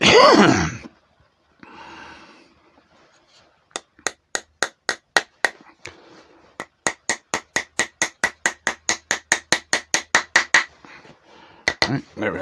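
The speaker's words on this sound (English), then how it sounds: "I made this little beach hammer years ago so that I can hammer these in without causing any damage to them" A small handmade beech mallet taps pieces into a wooden snowman turned from mulberry: a long run of sharp, evenly spaced knocks, close and fairly loud, with brief talk at the start and the end.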